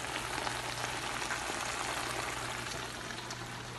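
Burrito filling sauce simmering and sizzling in a pan, a soft, steady crackling bubble held at low level throughout with no voices.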